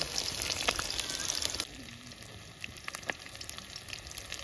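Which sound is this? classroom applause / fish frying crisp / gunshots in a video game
fish frying crisp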